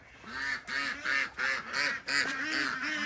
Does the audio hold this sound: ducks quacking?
yes